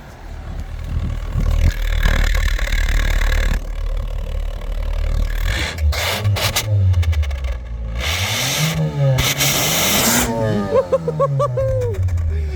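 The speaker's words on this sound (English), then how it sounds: "it actually like puffs out the exhaust when you give it a rev" A car engine being revved, exhaust puffing and boost hissing, with loud surging roars, rising and falling pitch sweeps, clattery bursts and quieter gaps in between.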